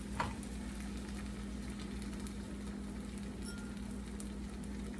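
Potatoes fry in bacon grease in a pan, a steady, quiet sizzle and crackle running evenly throughout with one small pop near the start.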